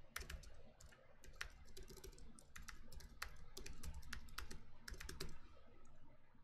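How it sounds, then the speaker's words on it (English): Rapid, continuous typing on a computer keyboard, dense clicking keystrokes heard faintly under a steady room hum, with no talking. "But now as I type that out"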